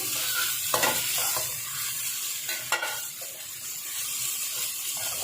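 Chopped capsicum and onion fry in a little oil in a pan, a continuous sizzle broken by a few sharp stirring scrapes and clinks of a spoon against the metal, close and fairly loud.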